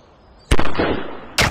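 Two sharp gunshots in a dinosaur-hunting mobile game, the first a loud crack with a rumbling tail, the second about a second later, with no talk.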